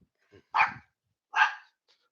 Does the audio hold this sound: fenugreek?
no